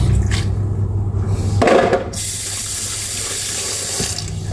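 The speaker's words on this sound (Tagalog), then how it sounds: "Tapos lagyan natin ng konting tubig." Water from a kitchen tap runs into a cooking pot, a steady loud hissing splash that intensifies partway through as the flow strengthens, continuing throughout with no talking.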